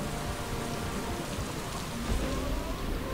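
Steady rain in the video game Mass Effect 3 falling on surfaces, a dense continuous hiss with no voices, holding at an even level throughout.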